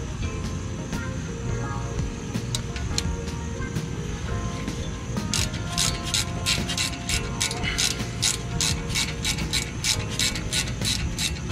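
A ratchet tightening brake bolts during a 2016 Acura MDX brake pad and rotor change, with a rapid run of close, sharp clicks in the second half over a low background hum.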